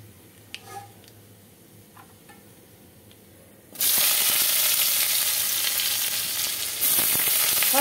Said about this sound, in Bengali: এবার আমি এক এক করে সমস্ত সবজিগুলো দিয়ে দেব।